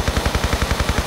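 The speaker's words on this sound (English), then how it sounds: "Get our gun out immediately and open fire." An MP5 submachine gun firing in Tomb Raider 3 on PS1, a rapid, evenly spaced stream of loud, close automatic shots.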